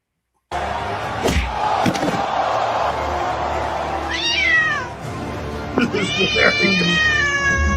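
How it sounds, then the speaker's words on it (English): Loud, drawn-out meow-like yowls rise and fall twice in the second half, over a constant crowd roar with a few sharp slams. "What did the cat do to you, Rose Wayne?"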